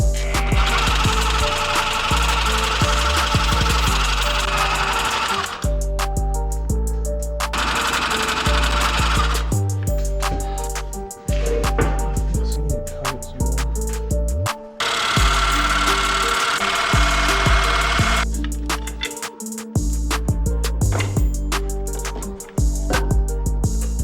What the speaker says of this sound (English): Gotta cut this bolt that snapped on us so we can free the manifold from the cylinder head itself.